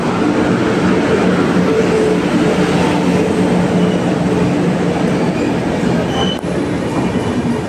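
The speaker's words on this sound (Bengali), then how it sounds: "চলে এলো আমাদের কুলিক এক্সপ্রেস" The 13054 Kulik Express rolls into the station with a loud, continuous rumble of wheels and carriages, faint squeal of wheels on rails rising near the end, with no voices.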